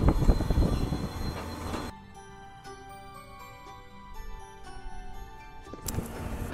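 A train stands at the terminal station in Kanyakumari, India's southern tip, at the end of a 930-kilometre journey. Loud rumbling gives way to a quieter stretch of steady mechanical hum with faint metallic tones, then a loud burst returns.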